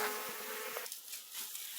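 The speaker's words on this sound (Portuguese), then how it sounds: "Abelha pras costas dele todo quanto é canto." Italian honeybees swarm around a beekeeper during honey harvesting, making a dense, continuous buzzing drone close by with a steady hum throughout.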